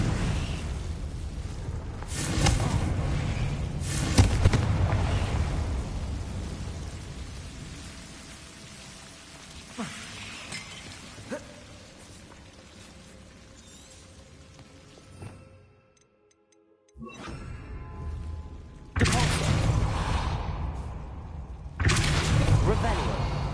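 Fiery spell blasts from Hogwarts Legacy, several loud bursts with rumbling, crackling tails spread across a noisy game scene, with a brief near-silent gap before heavy blasts return; a voice speaks now and then.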